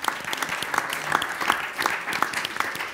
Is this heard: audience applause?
yes